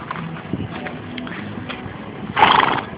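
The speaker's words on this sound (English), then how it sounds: "Lexi, Beauty, Sorelli, and a Borders horse all like to lick the Durango." A horse close by snorts and shuffles near a Dodge Durango, with a brief burst of breathy blowing near the end; no talking.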